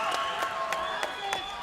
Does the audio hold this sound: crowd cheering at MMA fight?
yes